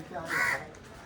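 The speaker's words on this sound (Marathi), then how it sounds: "हा कावळ्या" A single harsh crow caw rings out, fairly faint and brief, against a quiet background.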